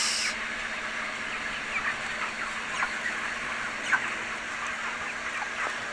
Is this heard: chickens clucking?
yes